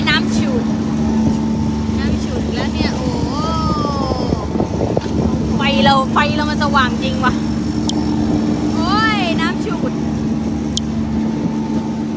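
Squid fishing boat motor droning steadily behind at sea, a low constant engine hum with water and wind noise while people talk nearby.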